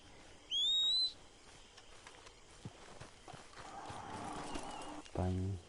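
Horse sounds in a video game: a loud, high whinny near the start, then a busy stretch of game noise. A final deep snort or whinny comes at the end.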